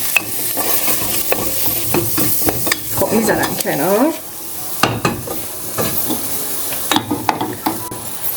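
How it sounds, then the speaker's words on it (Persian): Meat and onions sauté in a pan with turmeric, meat spice and black pepper, giving a steady sizzle broken by frequent clinks and scrapes of a utensil stirring against the pan, with a brief spoken line over the cooking. "گوشت و پیازم خوب تفت خوردن ادویه‌هاشو بهش اضافه میکنم."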